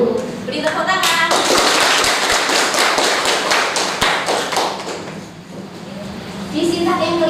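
A classroom of students clapping hands during a biology lesson, a dense burst of clapping that swells, tapers off, and is followed by quieter talk.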